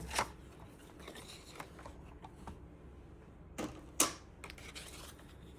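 Paper being cut for scrapbooking, giving a few sharp, close snips and slides scattered over a quiet room, with one louder cut near the end.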